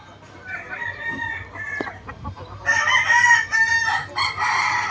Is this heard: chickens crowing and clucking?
yes